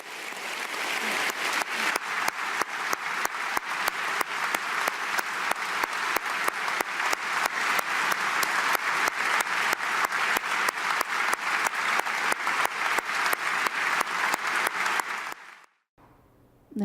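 An audience gives sustained applause after a speech, with dense, steady clapping for about fifteen seconds before it stops abruptly.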